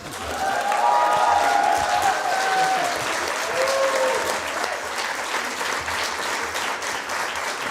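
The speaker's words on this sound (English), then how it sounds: "please cheer for Piero Messina" Loud, sustained applause with scattered cheers and whistles from a press conference audience at the Berlinale film festival, lasting the full stretch and easing slightly toward the end.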